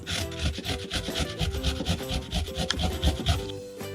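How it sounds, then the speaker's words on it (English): Fresh ginger scraped against a grater makes a close, rhythmic rasping, with quick repeated strokes filling the clip steadily and no talking. "Next thing is to grate the ginger, about 2 centimetres."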